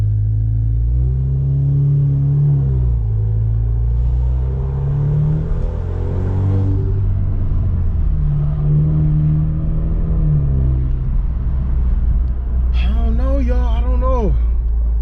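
Alfa Romeo Giulia with a performance mod cruising at steady speed, a continuous low engine drone and road rumble that rises and falls gently, with a brief higher-pitched sweep near the end.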